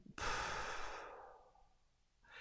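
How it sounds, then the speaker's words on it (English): A single slow, deep exhale during a guided relaxation, a loud close breathy sigh that fades gradually over about two seconds before another breath begins. "take a big breath in. Let it all go."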